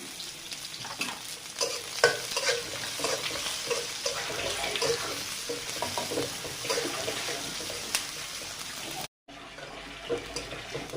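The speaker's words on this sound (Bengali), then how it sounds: "আমি কাঁচা ঝাল পেঁয়াজ ভেজে নেব, দিয়ে দিলাম" Chopped onions and green chilies fry in a pan with a busy, continuous sizzle and stirring scrapes, close and fairly loud, cutting out briefly near the end.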